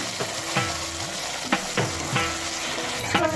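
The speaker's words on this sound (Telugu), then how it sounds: "ఇలా వేగాక టమాటా ప్యూరీ వేసి కలుపుదాం." Tomato puree goes into hot oil with fried green chili, curry leaves and ginger-garlic paste for tomato rice, sizzling steadily while a spoon scrapes and stirs the pan in several distinct strokes.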